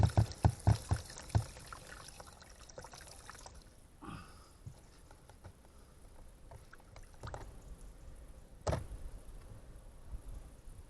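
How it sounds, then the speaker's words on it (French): Water splashing and pouring over cucumber seeds in a container as they are rinsed to wash off their gelatin coating, with a few sharp knocks at first, then a soft steady trickle and a brief splash near the end. "Bien rincer. Plusieurs fois comme ceci. Plusieurs fois pour enlever la gélatine."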